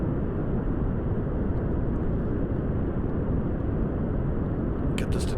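A throttled-down rocket engine in Kerbal Space Program, a steady broad roar holding at an even level throughout with no pauses, ending in a couple of faint clicks.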